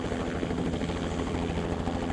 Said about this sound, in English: helicopter crews across the country lift off to survey morning rush hour traffic